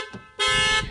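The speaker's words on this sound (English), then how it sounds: "Open the driver's door with a mechanical key and the factory alarm system is immediately activated." The factory alarm on a 2017 Toyota Camry goes off with a single loud, steady horn-like tone lasting about half a second after a quieter lead-in.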